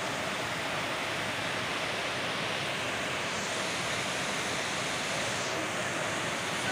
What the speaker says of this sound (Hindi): मेरा जो रूम है उसके बाहर बिल्कुल दरियाए कुनार बह रहा है